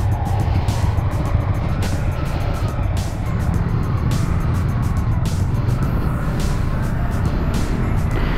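A Yamaha XSR155 single-cylinder motorcycle rides along a road, its engine a steady close drone with heavy wind rush over the mic, continuous and loud with little variation.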